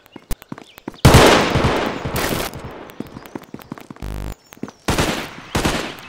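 Gunfire in a Garry's Mod battle royale match, with sharp isolated shots and loud bursts of rapid automatic fire, including an Uzi, separated by brief quiet gaps.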